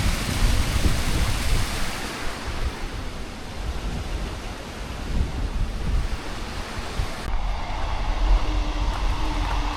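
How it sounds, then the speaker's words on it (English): A train passes near a countryside walking trail along Hadrian's Wall near Birdoswald, heard as a steady, loud broad roar mixed with wind buffeting that shifts in tone near the end. "train."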